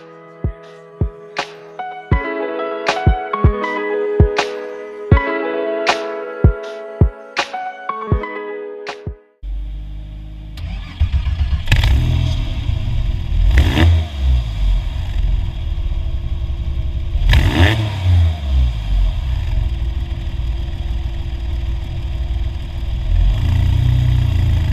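A Porsche 997 Carrera S engine fires up and runs loud and near after a stretch of plucked musical notes, its rumble rising in a few sharp rev bursts over a steady idle.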